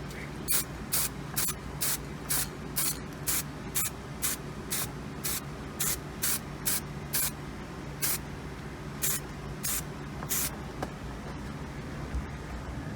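An aerosol can of leather colorant sprays a coat onto a leather steering wheel in a long series of short, sharp hissing bursts, fairly regular and close, with quiet gaps between them and no talking.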